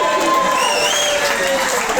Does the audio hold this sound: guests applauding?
yes